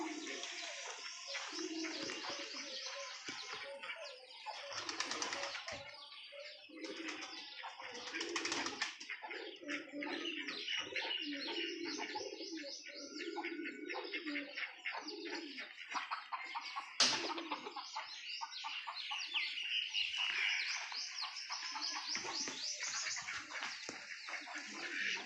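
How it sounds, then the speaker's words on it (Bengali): Pigeons coo repeatedly in soft, rolling calls, several birds close by and overlapping, with faint rustles of movement and no clear talking. "পায়রাগুলো ঘুরে বেড়াচ্ছে। আমার পাশে দেখো দুটো পায়রা"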